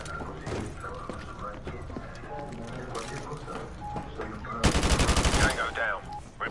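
A video game AK rifle fires a loud sustained automatic burst late in the stretch, after scattered shots, while someone talks over the game sounds.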